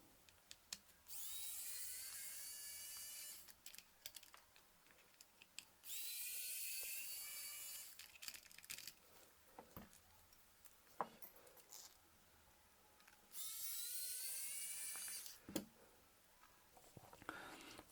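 A screwdriver removes the small back-cover screws of a Nixon wristwatch during a battery change, with three separate bursts of fine, hissing, whirring grinding, each lasting a couple of seconds, between quiet pauses.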